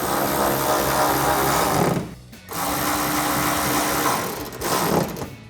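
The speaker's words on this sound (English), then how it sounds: "tighten down our 2 7mm bolts. So grab a 7mm socket to tighten these down" A power tool with a 7mm socket runs in loud, close, sustained bursts with a brief pause between them, tightening 7mm fender flare bolts on a 2021-2023 Ford F-150 fitted with Rough Country pocket flares, with no talk.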